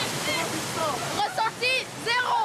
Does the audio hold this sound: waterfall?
yes